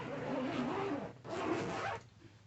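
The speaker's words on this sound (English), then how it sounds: "Let's zip up the window." A zipper slides along the window of a two-person hunting blind, two long close zipping strokes in a row with a brief pause between them, no voices.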